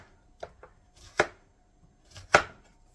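A knife chops yellow summer squash into slices on a cutting board, giving a few sharp, close chops: two light taps followed by two heavier strikes, spaced apart with quiet between them and no talking.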